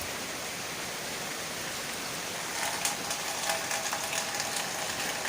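Steady rain pours down outdoors in a heavy downpour, a dense, even hiss that thickens and grows louder partway through, with no voices.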